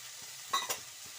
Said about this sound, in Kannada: ಬೆಳ್ಳುಳ್ಳಿ ನೋಡಿ ಈ ರೀತಿ ಹುರಿದ್ಬಿಟ್ಟು ಮಾಡಿದ್ರೆ